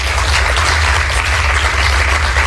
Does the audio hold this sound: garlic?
no